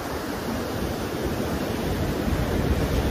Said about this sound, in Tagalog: Wow, dagat.